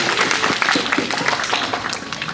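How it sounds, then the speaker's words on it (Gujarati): An audience claps in dense, continuous applause at a village gathering where guests are welcomed with bouquets, the patter steady and fairly loud throughout, with no clear voices on top. "આપણે સૌ તાળીઓથી અભિવાદન કરીશું."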